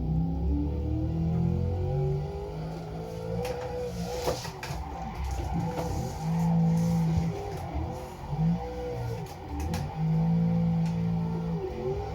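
In a sim racing drift competition on the Blackwood track, a car's engine revs and wails up and down in sweeping bursts, with screeching tyre-like tones as it slides, continuous and fairly loud, with no talking.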